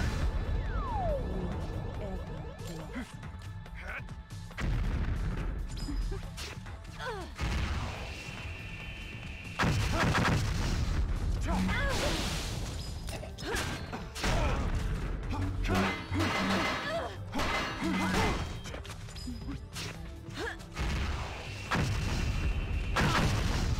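Missile attack explosions in the video game No More Heroes, a run of heavy booms and bursts with crashes and gunfire-like pops across the span, while people talk over the action.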